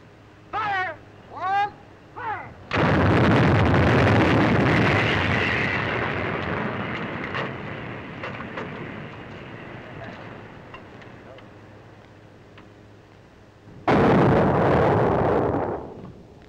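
A loud artillery gun fires in one sustained, roaring blast that rolls on for about eleven seconds, preceded by a few short spoken commands, then a second heavy blast bursts in near the end.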